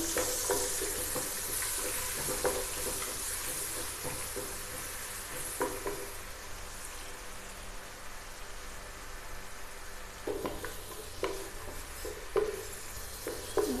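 Ginger-garlic paste being stirred as it fries in a pot with dal and rice for bhuna khichuri, a faint hiss of frying with sparse scraping clicks that grow busier toward the end.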